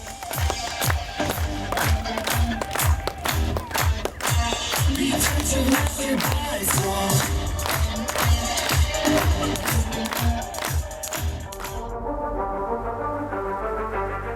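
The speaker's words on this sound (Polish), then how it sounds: "Słuchajcie w rytm muzyki, wszystkie ręce klaszczą" An arena crowd at an Ekstraklasa sports event claps hands in steady unison to the beat of loud music, the sharp claps repeating evenly and continuously throughout.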